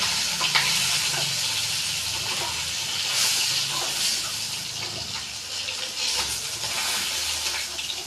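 Oil left from frying fish hisses and sizzles steadily in a pan, a close continuous spitting texture with soft clatters and no talk.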